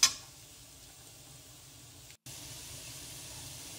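Onion sizzling in a pan with turmeric and salt: a steady, soft frying hiss that runs throughout, with a brief dropout partway through before the sizzle resumes.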